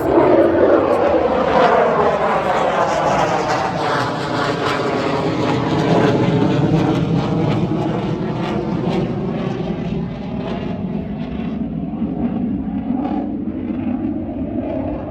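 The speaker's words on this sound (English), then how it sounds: "Yep, aeroplanes flying." Airplanes fly overhead, a loud, steady roar of aircraft engines that swells and slowly shifts in pitch for the whole stretch, with no talk over it.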